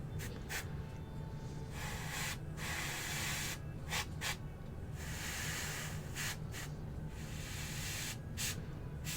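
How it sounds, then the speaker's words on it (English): An airbrush sprays paint onto a miniature figure in short, repeated hissing puffs spaced irregularly over a continuous low compressor hum, close and quiet, with no talking. "spray little puffs of paint."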